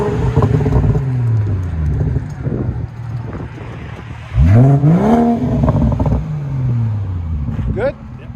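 A 2018 BMW 440i with a 3.0L inline-six and muffler delete revs up in sharp, rising bursts over a steady idle rumble, recorded close with some wind noise.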